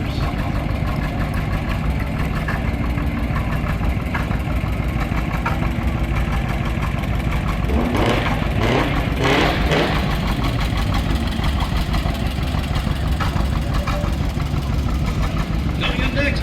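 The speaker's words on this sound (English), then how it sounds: "driven by Ben Stonecyphers, a 1946 John Deere G tractor, pulling 3 hay wagons with John Deere pedal tractors" 1946 John Deere G tractor running at a slow idle while it pulls hay wagons in a small-town parade, a steady low engine throb under crowd noise and talk, with a brief louder burst partway through.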